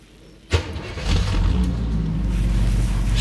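A 1963 Chevrolet Impala convertible engine cranks with a sharp start, then catches and settles into a steady, low running rumble close by.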